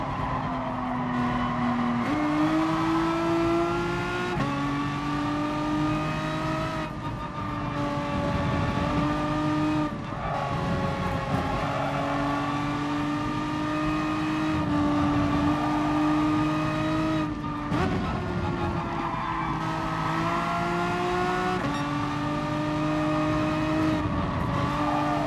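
A Renault Megane Trophy GT4 race car laps Suzuka Circuit in GT Sport, its engine loud and close, revving up through the gears with abrupt drops at each shift and occasional tire squeal, no voices.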